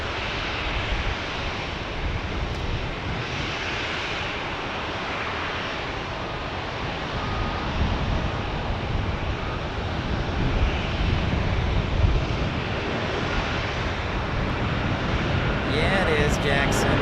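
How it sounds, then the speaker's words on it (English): An Alaska Airlines plane takes off at Phoenix Sky Harbor Airport with a continuous, fairly loud engine roar that swells slightly toward the end, mixed with wind buffeting on the microphone. "as we see Alaska Airlines taking off here"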